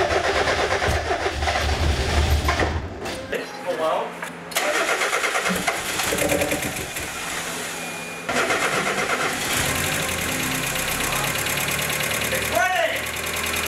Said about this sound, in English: I got it to turn over, and it's firing.